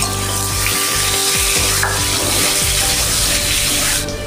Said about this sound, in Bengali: আমি এই তেলের মধ্যে আলুটাও একটু ভেজে তুলে নেব